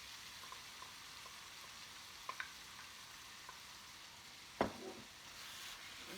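Ground meat with beans and salsa frying in a pan, a steady low sizzle throughout with a few faint clicks and one sharper clatter near the end, no voices.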